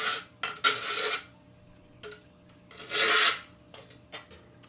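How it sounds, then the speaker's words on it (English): The side of a file rasps along a wooden edge in a few distinct strokes, each a short, bright, gritty scrape, close and clear with quiet pauses between them. "sandpaper, or even the side of the file and go in the direction of the grain"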